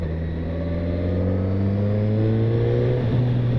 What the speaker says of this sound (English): And this motor here is the K5 iconic